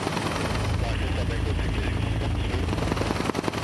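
Military helicopter flying north of Kandahar, Afghanistan: a loud, continuous rotor thump and engine roar heard from inside or nearby, steady throughout, with a voice speaking over it.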